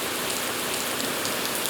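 Steady rain falls on the Alta Via trail in Liguria during a day of heavy forecast downpours, making a dense, unbroken hiss with no voices.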